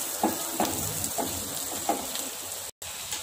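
Onions, ginger, chillies and garlic frying in a pan, a steady soft sizzle with a few light stirring taps, close and without voices.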